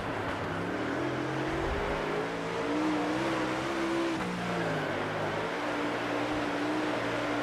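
Dirt-track race car engine in the World of Outlaws Dirt Racing 24 video game, a continuous droning roar with pitch rising and falling as the throttle is worked, heard alone without talk.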